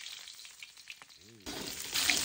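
Food frying in a pan at a street stall selling cooked shellfish, stirred as it cooks; quiet at first with faint clinks, then a sudden surge of loud hissing sizzle that grows stronger toward the end.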